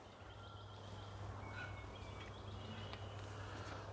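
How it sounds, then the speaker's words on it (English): A large-throated duck calls in an Australian outdoor setting, a faint, low, gobbling call repeated over steady background hum with a few higher chirps. "That's the noise of a duck here that's got a really big throat."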